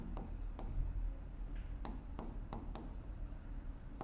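A marker writes on a board during an accounting lesson, producing soft, close strokes and taps in short bursts at a quiet level with no talking.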